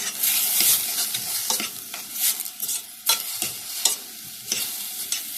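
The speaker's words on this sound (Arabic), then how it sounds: "واقوم مقلباها مع البصل" Minced meat frying in a pan with onion and carrot, stirred with a utensil: steady close sizzle under repeated scraping strokes against the pan, no voices.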